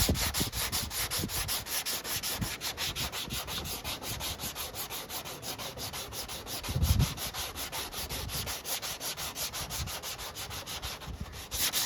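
Rhythmic hand block sanding on primer over a Plymouth Scamp body panel, fast steady back-and-forth rasping strokes up close, continuing throughout with a brief heavier bump midway.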